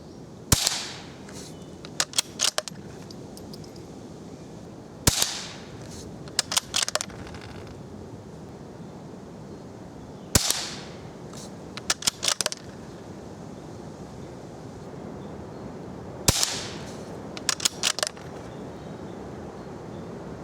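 CCI Quiet-.22 segmented hollow point rounds fire at targets in four widely spaced single cracks, each followed by a few quick ticks, over a steady outdoor background.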